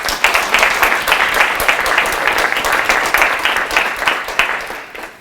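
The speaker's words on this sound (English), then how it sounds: "let's give that group a round of applause, please" Audience at a community literacy program event applauds steadily for about five seconds, a dense wash of many hands clapping that tapers off at the end.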